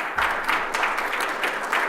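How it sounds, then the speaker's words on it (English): Family members clapping at a gathering about the Ontario election, a short burst of steady, moderately close applause from a small group, no voices. "Those were family members who applauded."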